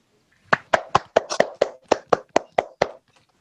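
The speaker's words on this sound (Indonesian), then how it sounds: "Oke, tepuk tangan untuk Bayu" Hands clap in a quick, evenly spaced run of about a dozen sharp claps in a quiet room during a group counseling session, close and distinct with no talk over them.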